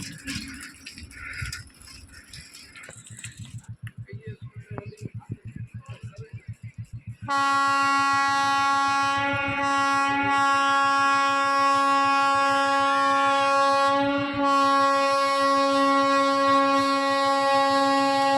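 A train rumbles past Gobra station on a foggy winter morning, its rhythmic wheel clatter thumping close by before a loud, sustained horn blares steadily for the rest of the clip.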